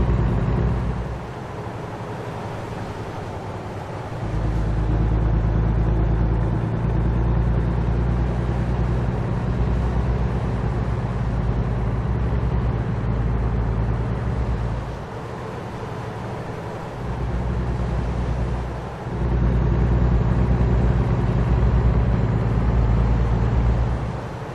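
In American Truck Simulator, a semi truck runs bobtail without a trailer, its engine droning loud and steady throughout with low rumble, easing back briefly a few times before picking up again.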